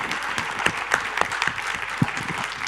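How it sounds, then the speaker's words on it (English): Audience applause for an outstanding contribution award winner at a computing conference, a dense steady clatter of many hands, close and even for the whole span, with a few sharper individual claps standing out. "let's give a grand applause to our OCA 2018 winner."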